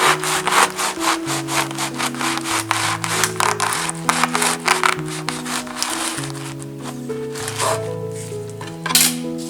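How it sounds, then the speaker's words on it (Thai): Rhythmic back-and-forth sawing strokes of a saw through a crusty butter-sugar loaf, scraping and rasping close up, with tonal music playing underneath. "เดี๋ยวจะมาใช้เลื่อยนะคะตัดขนมปังตัวนี้นะ"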